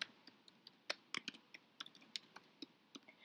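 Quiet typing on a computer keyboard: irregular bursts of crisp key clicks with short pauses between them, close and soft, with no other sound around them.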